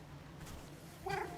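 A cat meowing in the video game No Rest For The Wicked, a single short meow near the end over a faint background ambience.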